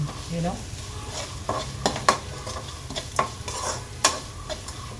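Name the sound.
stirring chopped onions in a frying pan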